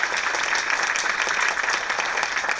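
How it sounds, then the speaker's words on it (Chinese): Audience applause in a hall for the Atomy company, a steady dense clapping that holds at an even level throughout without breaks. "给爱多美掌声一下"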